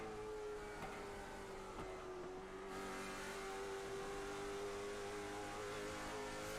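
Late model stock cars race at Nashville, their engines holding a loud, steady roar with a sustained droning tone that shifts slightly as the pack passes.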